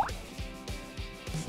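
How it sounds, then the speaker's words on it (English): Toy gems dropped into water give a run of small plops and drips, about five soft, evenly spaced splashes close by, fairly quiet. "Dip the gems in the water right now."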